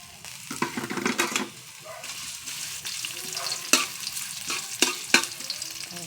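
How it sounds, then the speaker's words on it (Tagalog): Ginger sautéing for arroz caldo, sizzling in a pan with intermittent stirring and utensil scrapes, close and moderately loud, alone without talk. "Ating igisa ang luya."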